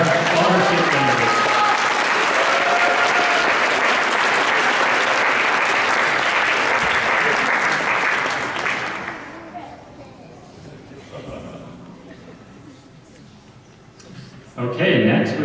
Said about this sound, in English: Let's give a round of applause to our scholarship winners.